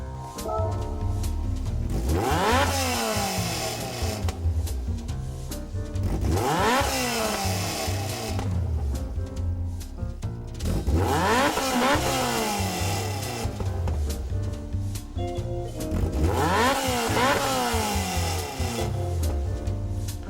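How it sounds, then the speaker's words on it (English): A Caterham 7 Superlight R500 in Gran Turismo 7 revving hard through repeated rising engine pulls with gear changes in between, loud, continuous and close, with no voices. "So that distinctly robust noise comes courtesy of the Caterham 7 Superlight R500"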